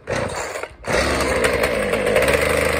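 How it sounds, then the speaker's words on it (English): A chainsaw engine, choked and primed, catches after a short sputter and runs loud and steady, a buzzing, rattling whine close by, while felling a cedar tree outdoors in windy conditions. "Chainsaw on."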